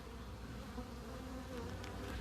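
A swarm of bees hums in a steady, close buzzing drone that holds constant throughout, with no one talking.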